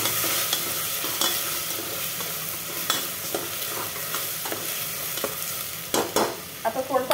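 Turmeric, chili powder and salt are stirred through a sizzling frying pan. Steady hissing runs under repeated scraping spoon strokes, ending in a quicker run of louder clatters.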